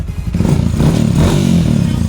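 A Yamaha Sniper 155 motorcycle engine idles steadily and fairly quietly after a tensioner replacement, a smooth continuous mechanical hum close to the microphone with light clatter and no talking.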